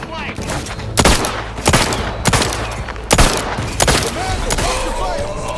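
Gunfire in the video game The Outer Worlds 2, a series of sharp, loud shots cracking roughly once a second over busy game ambience, with faint voices underneath.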